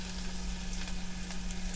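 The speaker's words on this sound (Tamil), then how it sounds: "இப்போ நம்ம கட் பண்ணி வச்சுருக்க ஒரு தக்காளி அதில் போடுறோம்" Tomato pieces frying in hot oil with green chillies and curry leaves, a steady close sizzle that holds evenly throughout without any voices.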